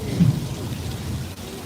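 Artificial rain pouring down on a Universal Studios Hollywood backlot tour set, a steady close hiss of falling water and splashing with low rumbling underneath, continuous throughout with no talk.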